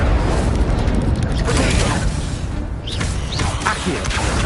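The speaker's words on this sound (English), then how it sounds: "Incendio." A fire spell cast in Hogwarts Legacy on PS5 erupts in a loud, dense roar with crackling bursts, sustained throughout amid busy game combat noise.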